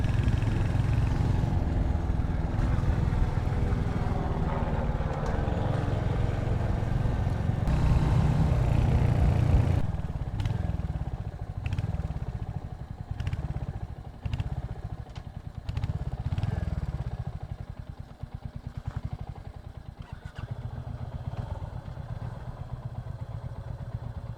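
A Royal Enfield Hunter 350 single-cylinder motorcycle rides steadily at close range, its thumping exhaust beat continuous under wind buffeting, easing briefly and then picking up again.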